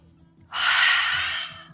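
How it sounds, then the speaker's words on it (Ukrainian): A single forceful breathy exhale during a wide yoga jump, close and loud, lasting about a second before trailing off. "Широкий стрибок, видих ха."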